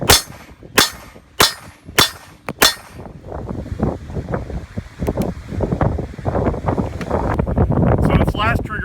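Five sharp pistol shots ring out in quick succession at a steady pace, loud and close, followed by wind noise and scattered rustling handling sounds.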